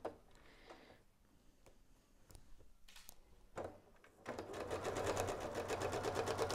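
Sewing machine stitching a diagonal quilting line across a quilt, a steady rapid mechanical whir of needle strokes building in the second half after a few quieter clicks and handling sounds.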